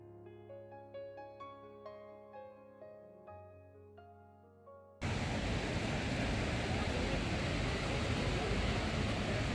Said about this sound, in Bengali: এখানে একটি জলের ধারা বয়ে চলেছে।